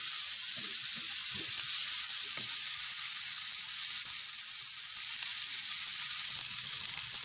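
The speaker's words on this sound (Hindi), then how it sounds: "अब मैं इसके अंदर ये शिमला मिर्च और प्याज शामिल करके इसको 2 मिनट इसी तरह फ्राई करूंगी" Capsicum and onion frying in a pan, a steady bright sizzle throughout with a few soft stirring taps, moderately quiet and free of speech.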